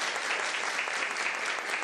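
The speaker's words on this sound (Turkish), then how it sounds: "sizlerden onlar için kocaman bir moral alkışı istiyorum" A crowd claps warmly for people invited on stage, a dense, steady burst of applause on its own with no voices.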